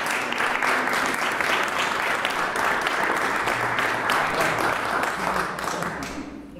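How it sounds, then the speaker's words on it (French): An audience at an association's annual general meeting applauds, a dense, steady burst of many hands clapping that carries on for several seconds before fading at the end. "On peut applaudir Céline Busson"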